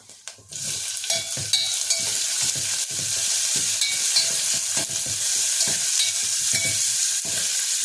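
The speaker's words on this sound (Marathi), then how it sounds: "त्याला चांगलं परतून घेऊया 1 मिनिटभर. थोडंसं हिंग आणि आपला कांदा." Onion and a pinch of asafoetida fry with garlic in a hot pan, giving a dense, steady sizzle broken by repeated scraping stirs of a spatula; near and loud throughout, no speech.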